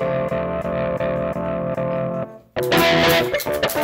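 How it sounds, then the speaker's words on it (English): An electric guitar through a Digitech RP80 pedal's crunchy tube combo amp simulation plays a repeated chord pattern, breaks briefly, then strums harder and rougher. "A nice crunchy tube combo"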